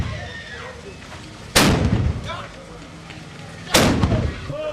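Two sharp, loud gunshot blasts about two seconds apart ring out at the Aba Drum Festival in Edo State, each with a booming echo that trails off, over a steady crowd murmur and faint festival din.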